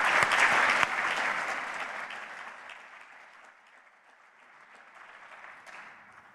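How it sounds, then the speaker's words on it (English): A conference audience applauds the reviewers at an academic opening session, loud at first and then gradually fading out over several seconds. "another round of applause for the reviewers,"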